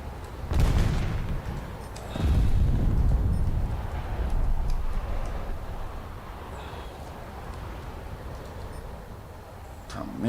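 Bombs dropped from an aircraft in War Thunder burst in a few heavy, rumbling booms, with a low roar and rolling crackle that trail off between the blasts.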